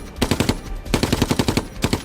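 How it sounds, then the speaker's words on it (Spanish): A German machine gun fires on a battlefield in rapid bursts at about 900 rounds per minute, with three tight strings of sharp, loud reports separated by brief pauses. "Su ametralladora está en una posición perfecta y es capaz de disparar 900 rondas por minuto"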